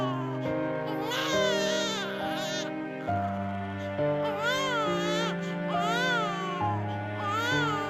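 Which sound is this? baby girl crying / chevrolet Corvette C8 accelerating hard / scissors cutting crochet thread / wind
baby girl crying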